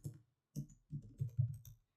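Quiet close-up typing on a computer keyboard during a Windows 8 installation on a Mac, a brief burst of about six soft keystrokes in uneven rhythm, no voices.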